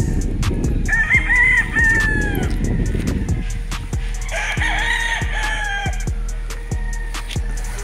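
McLean hatch gamefowl roosters crow on a game farm, several loud cock-a-doodle-doo calls from nearby birds, with other crows and clucks around them.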